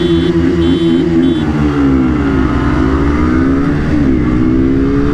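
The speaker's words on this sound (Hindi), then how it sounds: "शुभम भाई चलाएंगे MT15 एंड कौशिक चलाएगा पल्सर 150, कुंदन भैया चलाएंगे R15S, और अपने शेडो ब्लॉक्स जो हैं भाई वो चलाएंगे KTM RC 125 जनरेशन 2" KTM RC 125, Yamaha R15S, MT-15 and Bajaj Pulsar 150 motorcycles racing together, a loud, continuous blend of engine drone with rising and falling revs as the bikes accelerate and shift, with no talk.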